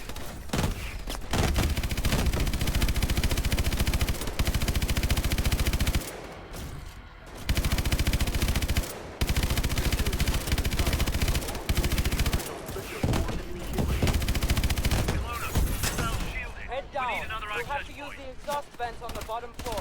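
Sustained gunfire in Call of Duty: Advanced Warfare, dense rapid automatic bursts with brief pauses, loud and continuous, with scattered explosions and thuds near the end.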